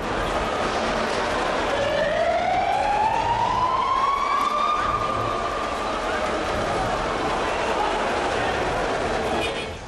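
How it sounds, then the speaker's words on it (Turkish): A fire engine siren sweeps upward and then holds its wail over a dense roar of shouting football fans inside Fenerbahçe's Saraçoğlu stadium, with the crowd noise constant and loud beneath it. "İtfaiye sirenleri isyan eden taraftar haykırışlarına ve yönetim istifa seslerine karıştı"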